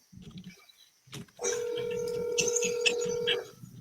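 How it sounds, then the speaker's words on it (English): A telephone call ringing out while waiting for an answer: a steady electronic ring tone sounds for about two seconds near the middle, with brief speech and rustling before it and soft voices beneath. "Come on, answer the phone."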